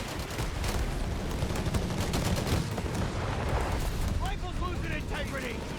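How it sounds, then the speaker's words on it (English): Nebelwerfer rocket artillery fires in a Company of Heroes 3 battle, a dense, loud barrage of blasts and crackling impacts that continues throughout, with a commentator talking over it. "We got Nebelwerfer. So finally some artillery here out of the Germans."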